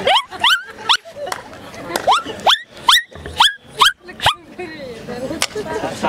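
A man imitates a dog, voicing a run of loud, close barks and yelps in quick succession, then a few softer whimpering sounds trailing off at the end.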